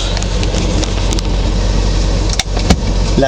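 A Spitfire car engine catches instantly and idles close by at a steady, loud rumble, with a couple of brief clicks and knocks over the running motor.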